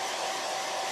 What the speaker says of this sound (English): right now I'm using a hair dryer